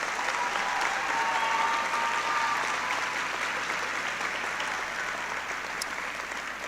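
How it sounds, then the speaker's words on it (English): Sustained applause from a seated school audience at a high school class night, a steady broadband clatter of many hands clapping at an even level throughout with a faint murmur of the crowd beneath. "You can give them a round of applause."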